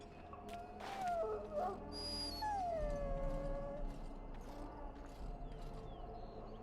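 A dog in the fantasy role-playing game Dragon Age: Origins, penned and wounded, whines and howls in long, wavering, mournful cries that rise and fall, with short yips and whimpers between them, close and clear against a low, steady game ambience.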